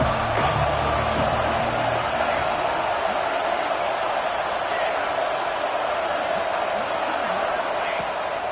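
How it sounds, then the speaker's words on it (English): A stadium crowd in the NCAA 26 college football video game roars in a steady, dense wash of cheering and noise, loud and unbroken, with a commentator's voice faintly underneath at the start. "This crowd trying to make life miserable for this offense."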